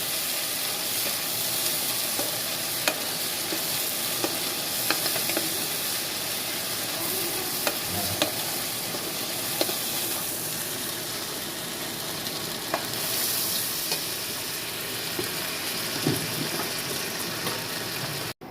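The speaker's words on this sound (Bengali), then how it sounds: "এই যে এখানে আমরা আদা বাটা রসুন বাটা দিয়ে দিলাম। এখন ভালো মতো নেড়ে নিচ্ছি।" Ginger-garlic paste for biryani fries in a pan in a Bangladeshi village kitchen, giving a steady, close sizzle throughout with scattered scrapes and clicks as it is stirred. No one speaks.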